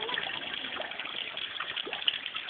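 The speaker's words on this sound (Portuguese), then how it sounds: "Tá entrando água, né, Nath?" Floodwater during a rainstorm flows steadily into a street storm drain with a whirlpool forming, a continuous rushing, gushing wash of water heard alone and close.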